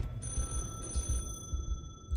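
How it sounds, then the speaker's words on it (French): Telephone ringing in a BioShock mod for the VR game Half-Life: Alyx: a bright electronic ring sustained for about a second, then fading, over a low rumbling room tone with no speech. "Téléphone."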